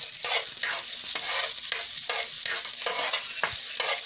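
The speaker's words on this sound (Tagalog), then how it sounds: "igisa natin ang bawang sa mantika" Garlic sautés in hot cooking oil, a steady bright sizzle broken by repeated stirring strokes at a regular pace, close and fairly loud with no talking.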